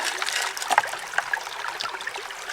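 Water runs through a gold sluice box over the front riffles during gold sluicing, a close, bubbling trickle with small splashes, continuous and uneven, with no voices.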